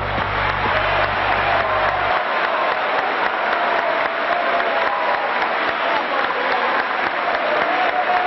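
Sustained applause fills the Chamber of Deputies in Buenos Aires as Fidel Castro appears in 2003, a dense, steady roar of many hands clapping at once that holds evenly from start to finish.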